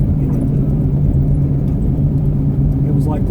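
A 1980 Buick Regal out for a drive, its engine a steady, close, low rumble with a constant hum running underneath a person talking throughout.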